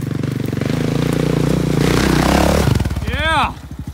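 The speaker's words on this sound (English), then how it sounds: "Keep the revs up." A motorcycle engine held at high revs, droning loud and close for nearly three seconds before dropping off, while people shout and talk over it.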